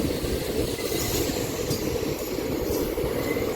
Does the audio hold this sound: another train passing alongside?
yes